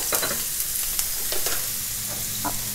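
Onions sizzle steadily in a hot pan, with a few scraping stirs breaking through the crackle.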